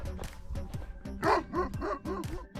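Sheepdogs bark repeatedly near grazing flocks on a mountain pass in Asturias, a steady run of loud, close woofs and yips in quick rhythm, several overlapping with no talk.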